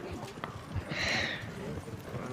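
Horses in a video game clop with hoofbeats under steady talk, with a brief higher whinny-like cry in the middle, all at moderate loudness.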